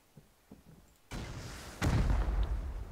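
A rocket from the video game Rust is fired with a sharp onset partway through, then a heavy explosion lands a moment later, its loud rumbling boom filling the rest of the moment with no talking.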